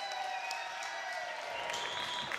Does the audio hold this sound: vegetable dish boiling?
no